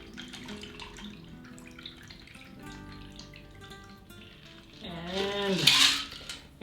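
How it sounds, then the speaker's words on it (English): Margarita poured from a shaker into a goblet: a steady liquid splash that swells and grows louder toward the end, with faint clinks of glassware in a home bar setting. "So let's pour it in this goblet here."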